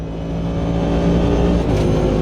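Automobilista 2 race car engine droning loudly and steadily up close, pitch rising slightly under acceleration before a brief shift, with no voices.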